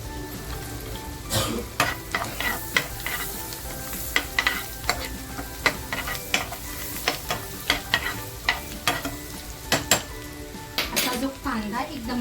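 Garlic dropped into a hot pan for chicken masala sizzles steadily, punctuated by repeated sharp clinks and scrapes of a spoon stirring against the metal, close and moderately loud throughout with no talk.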